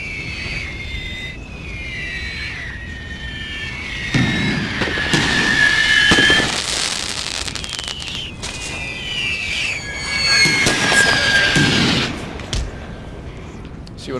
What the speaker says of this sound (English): There's the artillery there.